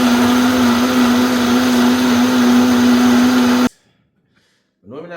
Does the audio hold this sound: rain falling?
no